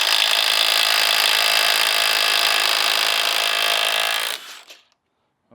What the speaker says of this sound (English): this is where an impact driver comes in handy, or an impact wrench, I should say